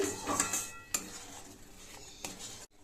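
A utensil stirs salt and sugar into a cauliflower gravy in a metal pan, giving close scraping and clinking with a few sharp knocks against the pan's rim, faint and intermittent.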